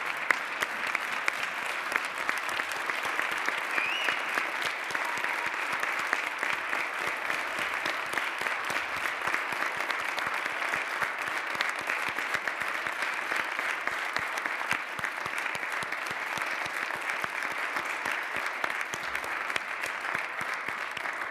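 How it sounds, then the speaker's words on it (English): An indoor audience applauds steadily at a public meeting, clapping evenly and continuously at moderate distance for about twenty seconds, with no talking. "Let's give Jason a round of applause"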